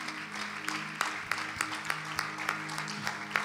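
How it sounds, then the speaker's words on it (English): A church congregation clapping their hands for Jesus during an anointing service, with distinct sharp claps over a continuous bed of applause and sustained musical tones underneath. "Come on, keep clapping for Jesus."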